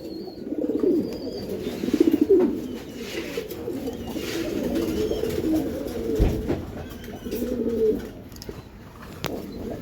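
Giribaz pigeons, including a pair of silver baga birds, coo softly and repeatedly at close range in a dim loft, with the low, throaty calls overlapping and rising in bursts.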